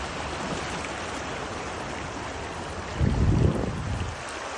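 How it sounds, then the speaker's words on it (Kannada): Yamuna river flowing near Prayagraj, seen from a bridge: a steady broadband rush of moving water and wind, swelling louder for about a second near the end before easing back, with no voices. "ಯಮುನಾ ನದಿ ಎಷ್ಟು ಸುಂದರವಾಗಿ ಹರಿತಾ ಇದೆ"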